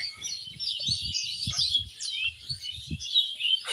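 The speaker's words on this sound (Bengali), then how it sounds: "এই গাছগুলোতে অসংখ্য পাখি শব্দ শুনতে পাচ্ছেন কিনা" Many small birds chirp and tweet continuously in a dense, overlapping chorus from leafy trees, with soft low rustling and thumps underneath.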